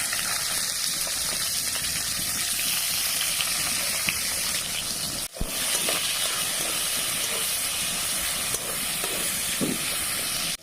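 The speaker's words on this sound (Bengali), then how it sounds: "এবার এখানে দিয়ে দেবো কেটে রাখা পেঁয়াজ।" Chopped onion sizzles loudly in hot oil with dried red chilies and nigella seeds, a dense steady hiss close by that continues without a break, cut briefly once midway.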